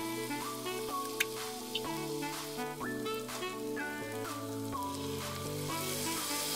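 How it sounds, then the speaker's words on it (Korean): Onions sizzling in olive oil in a pan as Italian tomato sauce is poured in for a Chicago deep dish pizza, a soft continuous frying hiss under steady background music. "양파가 투명해지면 이탈리아 토마토 소스를 부어줄 거예요."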